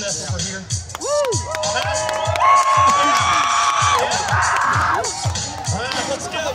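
Rodeo crowd at a Missouri beef days event cheering, whooping and shouting loudly and steadily, with an announcer talking over the din.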